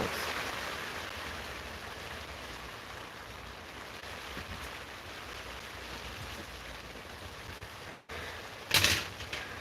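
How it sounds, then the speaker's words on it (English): Rain falls steadily on a garden, a continuous broadband hiss lasting several seconds, with a brief sharp knock or clatter near the end. "It's fucking raining."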